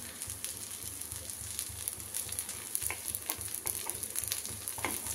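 Semolina and vegetable appe sizzling and frying in an appe pan while being turned with a spoon, a steady quiet crackle with light scraping ticks and small taps.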